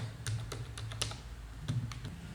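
Rapid clicking of computer keys during a C++ programming session, a steady run of close, fairly soft keystrokes over a low constant hum.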